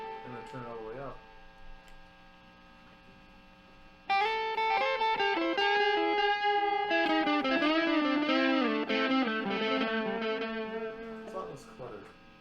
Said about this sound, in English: you hear the first echo, but each echo after that is a little bit softer and adds more texture than it does actual notes